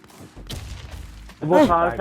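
Gunfire bursts from a survival shooter video game, a quick volley of shots building into a loud cluster near the end, with a voice talking over it.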